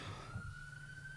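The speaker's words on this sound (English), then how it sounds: "Oh, siren's going past." A siren passes by outside, heard faint and distant as a steady high tone that holds for about a second over low background rumble, with no talking.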